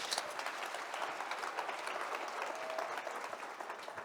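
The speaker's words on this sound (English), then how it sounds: "Let's give him a final round of applause." A summit audience claps in a sustained round of applause, dense and even for several seconds at a moderate distance.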